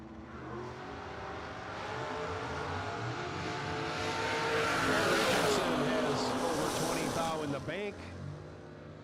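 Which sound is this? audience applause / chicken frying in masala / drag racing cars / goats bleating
drag racing cars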